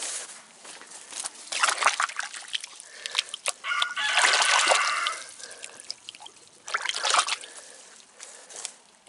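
Backyard hens cluck and chatter in bursts at close range while eating garden greens, with soft trickling water sounds in between.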